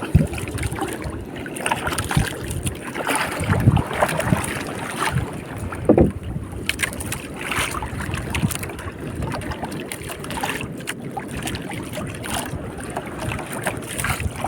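Motorboat or bangka engine noise on open water during a fishing outing, a steady broadband drone mixed with wind buffeting the microphone, with no speech.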